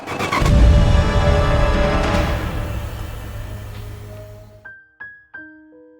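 Cars race along a road with a loud rush of engine and passing noise that slowly fades, then several sharp tonal hits and ringing sounds near the end.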